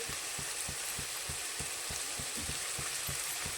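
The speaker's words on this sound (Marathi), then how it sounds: "ते हलवून घेते।" Egg biryani mixture with turmeric and salt fries in a pan under a steady sizzle, with regular low thumps and scrapes of stirring repeating about three times a second.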